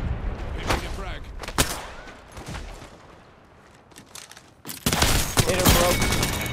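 Gunfire in the Apex Legends battle royale game, with scattered shots early, then a dense, loud burst of rapid automatic fire near the end, with players talking over it.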